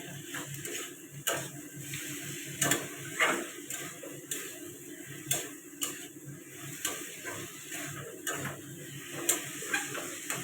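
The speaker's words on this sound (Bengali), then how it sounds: "ঢাকাটা খুলে নিলাম, একটু নেড়ে দেবো" Ridge gourd, potato and shrimp curry stirred in a pan, with steady close scraping and clicking of a utensil against the pan over a soft sizzle, repeating in an uneven rhythm.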